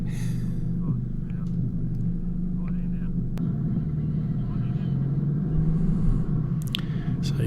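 A 4WD vehicle grinds along a rutted off-road forest track, working its wheels out of a deep rut, with a steady low engine rumble throughout and a few faint knocks and creaks on top.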